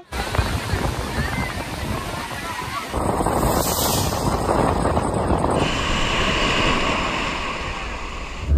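Sea waves at Vizag beach, where hills meet the sea, rolling in as a continuous broad roar mixed with wind buffeting the microphone, with a brief brighter surge midway.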